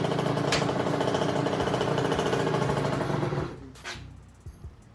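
Rebuilt two-stroke engine with pre-mixed fuel starting up, a loud, close, rough buzzing drone that runs steadily for several seconds, then drops away abruptly, leaving a few weak sputters and pops.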